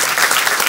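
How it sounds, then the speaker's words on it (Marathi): Applause from the audience at a devotional Marathi bhajan and kirtan gathering in honour of the singing group, steady, dense clapping throughout a very short burst. "एकदा आमच्या सर्व महाराज मंडळीसाठी जोरात टाळी वाजवा"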